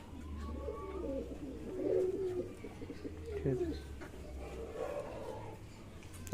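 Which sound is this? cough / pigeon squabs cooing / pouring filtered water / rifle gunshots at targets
pigeon squabs cooing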